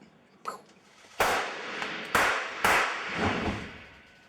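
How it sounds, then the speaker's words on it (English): Small squib charges fire under a shirt for a film blood effect on a movie set, three sharp close cracks spaced about a second apart, each trailing into a brief hiss of noise. "small little explosive called a squib"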